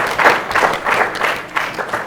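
A children's audience on a kids' television show claps for a young contestant, rhythmic bursts of applause swelling and easing in quick pulses, fairly close and lively.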